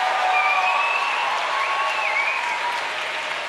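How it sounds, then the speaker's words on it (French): Applause from the audience at a Saturday-night comedy show, heard as a dense, even patter of many hands lasting several seconds and fading slightly toward the end, with some whistling tones over the clapping. "si vous avez envie d'applaudir, applaudissez bien fort"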